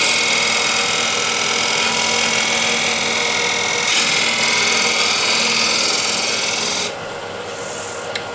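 A refiner scrapes across an 11-inch Osage orange wooden bowl, a loud, continuous rasping hiss with slight changes in pressure before it eases off and the sound drops near the end.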